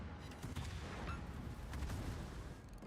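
Naval warship guns firing in a World of Warships-style naval battle game, a dense rumbling barrage of booms and blasts layered over steady low battle noise, continuous and fairly loud throughout.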